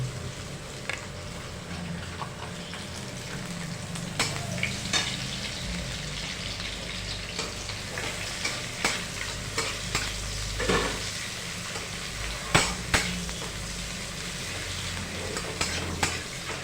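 Chopped onion frying in hot oil in a pan for a chicken curry, giving a continuous close sizzle and crackle with occasional stirring scrapes and clicks throughout, no voices.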